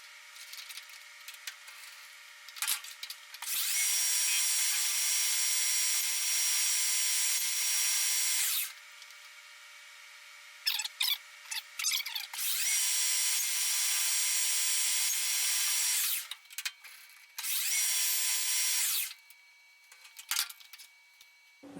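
Metal lathe facing down a stainless steel part, with long steady bursts of bright, hissing cutting noise separated by quieter pauses and short clicks and clunks.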